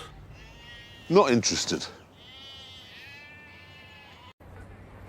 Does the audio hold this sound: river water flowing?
no